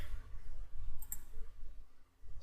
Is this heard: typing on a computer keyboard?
yes